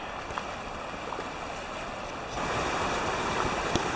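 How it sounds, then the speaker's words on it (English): A river current rushes in a steady broadband wash, growing slightly louder partway through, with no voices. "There's another section of the river."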